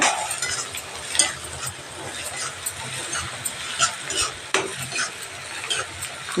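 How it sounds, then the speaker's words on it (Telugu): Curry is stirred in a hot pan, with scraping strokes over a continuous frying sizzle that carries on for several seconds and no one talking. "ఇలా కలుపుకుంటుండాలి."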